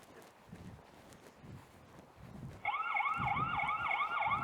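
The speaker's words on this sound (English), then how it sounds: "So that's the siren and strobe," A CCTV security camera's siren alarm, set off by an intruder, starts abruptly partway through with a loud, steady warbling electronic wail that repeats in regular sweeping cycles over faint background noise.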